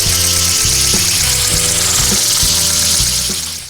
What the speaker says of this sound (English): So basically you can see with the impact sprinkler